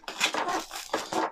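Crinkly plastic and cardboard rustling as a Pokémon Celebrations playmat collection box is torn open, a continuous close-up scratchy tearing with a couple of stronger bursts.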